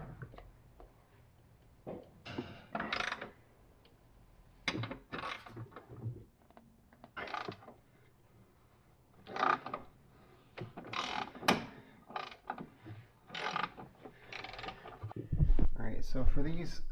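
A ratchet works on E14 external-torx bolts on the rear sway bar of an F56 Mini Cooper, giving repeated bursts of clicking and metallic clunks, close by, in uneven groups with pauses, and a brief voice near the end.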